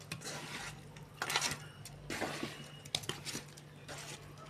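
Sardines being mixed by hand with masala, a soft wet squishing and stirring in repeated strokes, close and moderate, with occasional light clinks against a dish.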